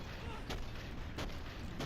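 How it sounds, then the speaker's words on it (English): Distant gunfire from the Sprawl video game thumps out in a few dull bursts about every half second to second, buried in a dense, noisy game soundscape. "Why would you just run into the middle of the gunfire there?"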